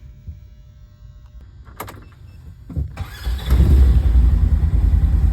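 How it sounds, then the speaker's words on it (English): Polaris Ranger side-by-side engine starting: a few faint clicks and a brief crank, then the motor catches and settles into a loud, steady mid-pitched idle heard up close, with no talking. "So this Polaris Ranger, you have to step on the brake to start."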